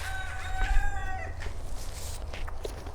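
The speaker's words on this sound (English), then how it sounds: "The rooster just got into his little voice, and he is now using it a lot more frequently." A young rooster crows once nearby, a wavering, cracking cock-a-doodle-doo over a low rumbling background, followed by faint clucks and farmyard noise.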